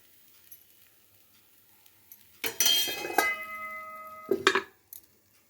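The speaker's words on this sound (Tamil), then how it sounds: "இதேமாரி எண்ணெயை ஊற்றிட்டு மூடி வச்சிடலாம்." A metal lid set down over a dosa pan after oil is poured: two clattering metallic knocks with a brief ringing tone, the first longer, the second short, close up in an otherwise quiet kitchen.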